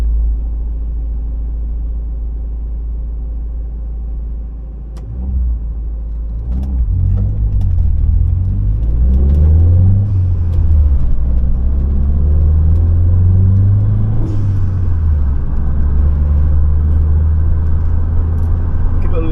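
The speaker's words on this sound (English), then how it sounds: "If I give it a little blip of the throttle, every now and again it'll just settle right way back down." Cosworth-engined car idling high with a steady low rumble, then several throttle blips around the middle that rise and fall in pitch before settling back to a high idle, close and loud with no talk.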